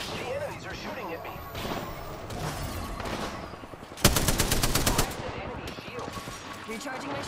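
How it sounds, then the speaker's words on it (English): Enemies fire guns in Apex Legends, a burst of rapid gunfire rattling out mid-clip amid busy game noise, with a voice talking over the action. "The enemies are shooting at me."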